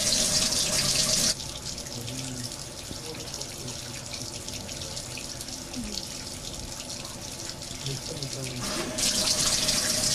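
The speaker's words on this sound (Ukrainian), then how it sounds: "Згідно інструкції, більше двох хвилин ми зачекаємо, поки стече вода." Hot water tap left running for over two minutes during a water temperature check, a steady rushing stream into a sink, louder at the start and end with a softer stretch in between, no clear speech.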